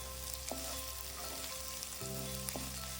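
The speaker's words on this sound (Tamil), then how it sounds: "இஞ்சி பூண்டு விழுதோட பச்சை வாசனை போற வரைக்கும் நல்லா வதக்கி விட்டுக்கோங்க." Steady oil sizzle of ginger garlic paste frying in a pan, with a few light clinks of a spoon stirring; no voices.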